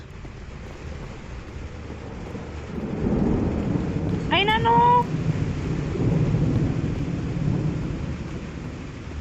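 A thunderstorm in the Roblox game Eternal Night: steady rain hisses while a loud rolling rumble of thunder swells midway and lingers, with a brief voice exclaiming over it.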